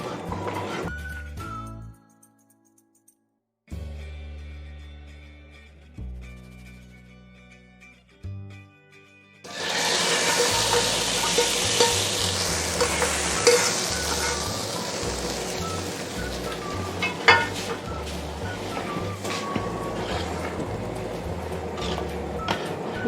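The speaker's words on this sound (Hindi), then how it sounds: "अब इसके ऊपर प्याज का तड़का लगाऊंगी मैं।" Fried onion tempering (tadka) poured over a pot of beef haleem sets off a sudden loud, hissing sizzle partway through that keeps crackling steadily to the end, after a stretch of soft background music.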